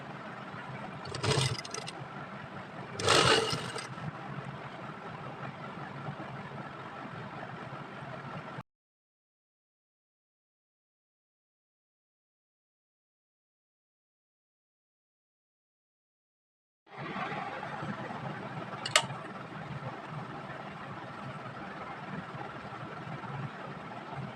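Sewing machine stitching lace and piping onto a neckline, a steady close motor whir that stops for several seconds of silence midway before starting again.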